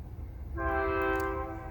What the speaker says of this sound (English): Thanks, train.